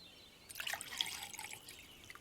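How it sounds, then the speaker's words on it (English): Tea poured into a cup in a cartoon scene: a short, faint trickle and dribble of liquid lasting about a second and a half, with a few bright drip-like splashes, heard alone. "Could you pour me some more tea"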